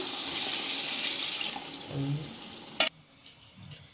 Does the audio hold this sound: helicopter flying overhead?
no